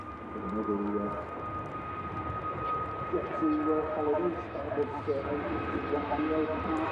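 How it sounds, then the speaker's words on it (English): Jet2 Airbus A321 departing Manchester Airport for Tenerife, a steady engine roar at a distance, with someone talking over it throughout. "the second Jet2 A321 to Tenerife on the way out"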